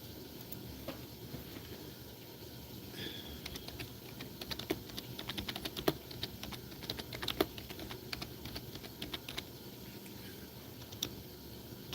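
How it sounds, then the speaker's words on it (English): Quiet, irregular key clicks of someone typing on a computer keyboard, with scattered bursts of taps over a soft background hum. "I don't like this keyboard. I'm used to my gaming keyboard."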